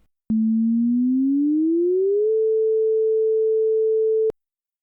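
A generated sine-wave chirp sounds alone as a pure, loud low tone that starts with a click, glides upward along a parabolic curve, and then holds steady before cutting off with another click.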